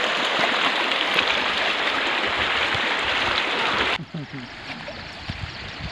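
A forest river in Namdapha National Park, Arunachal Pradesh, rushes in a loud, steady broadband wash for about four seconds, then drops suddenly to a quieter, thinner flow.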